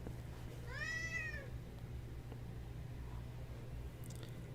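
A house cat gives a single drawn-out meow near the start, then a low steady hum and faint small noises follow with no talk.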